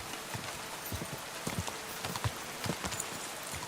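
Horse hooves clip-clop in Kingdom Come Deliverance II, a steady run of soft thuds at moderate distance over a light, hissing rain-like background, with no talk.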